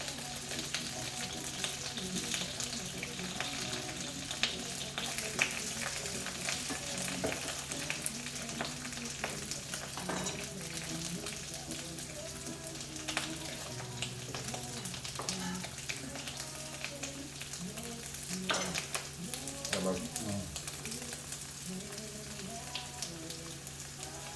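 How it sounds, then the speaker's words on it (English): Sausages and mushrooms fry in a pan with a continuous crackling sizzle and dense spitting pops, close by and low in level, with faint sounds of movement in the background. "Put the sausages in. mushrooms."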